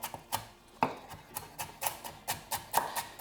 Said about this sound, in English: I'm going to make use of these stalks and just finely chop them